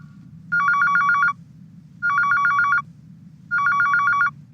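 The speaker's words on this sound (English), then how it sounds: "The phone rings." A telephone rings three times in a horror film scene set in a home, each ring a bright, rapidly trilling burst about a second long, separated by short pauses over a low background hum.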